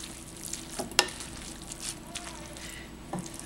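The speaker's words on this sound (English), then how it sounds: "Mix it up really well. Make sure that all the broccoli is nice and covered." Broccoli stirred and mixed in a sauce for broccoli rice au gratin, giving soft wet scraping and squishing under a faint sizzle, with one sharp utensil clink, close and quiet.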